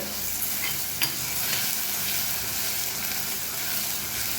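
Tomatoes sautéing in a clay pot while karuvadu thokku is cooked, a steady close sizzle with a few stirring scrapes and light knocks.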